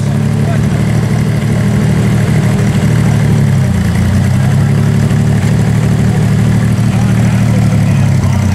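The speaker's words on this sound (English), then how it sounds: "Crank this baby up. Gotta love it. Corvair 140, four primary carburetors." A Corvair 140 engine with four primary carburetors in a Fitch Sprint idles loud and close, a steady low rumble with slight uneven pulsing and no clear revs.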